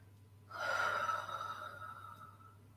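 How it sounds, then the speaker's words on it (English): A single slow, gentle breath, soft and close, drawn out during a shiatsu and energy-work class, with no one talking. "So we're just going to breathe in a little fuller, but not panicking that we can't be so full with our breath. And then breathing out through the mouth."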